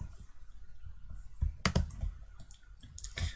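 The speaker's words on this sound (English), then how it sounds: "Now we can just click on that curve." Sharp computer mouse clicks while selecting a curve in FreeCAD, a few scattered close taps with a couple of louder clustered clicks, over faint room hum.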